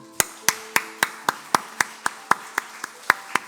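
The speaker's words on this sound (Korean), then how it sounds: "큰 축복의 박수 한번 보내도록 하겠습니다" Slow, evenly spaced hand claps from a church congregation ring out, about a dozen sharp claps in steady rhythm, fairly close and moderately loud.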